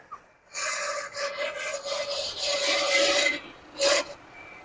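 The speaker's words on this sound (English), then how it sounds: "Is that the alternator or the smog pump doing that?" Rasping, squealing rub from the smog pump on a 1979 Lincoln Continental engine that sat abandoned for 32 years. It comes as close, uneven scraping pulses with a steady whining tone, then a brief sharper squeak near the end.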